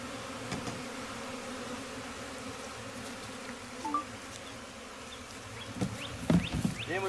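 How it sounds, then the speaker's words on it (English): Honey bees buzz steadily around a hive box, a dense droning hum with individual insects flying close past now and then. "Now we wait and see if all the bees go in the box."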